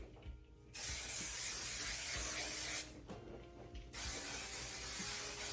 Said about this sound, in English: Shake your aerogel and spray it all over.